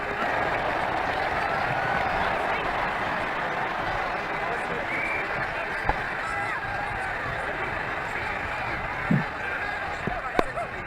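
A stadium crowd in Ashes Cricket 2009 roars and applauds after a six, a steady, broad wash of cheering and clapping that continues throughout, with faint commentary voices underneath.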